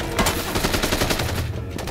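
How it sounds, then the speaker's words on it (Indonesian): Gunfire in an action film, a dense burst of rapid shots and fusillade-like bangs overlapping with loud effects for about two seconds, with no voices. "Sam menyuruh Marco dan Deng untuk mengalihkan tembakan ke arahnya"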